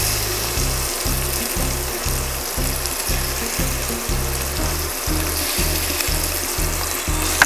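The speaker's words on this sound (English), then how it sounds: "So putting these in a clockwise position so we know when to flip them once we get that nice color on them" Shrimp searing in hot oil in a pan, a steady loud broadband sizzle that holds for several seconds under a regular pulsing low hum, with no talking.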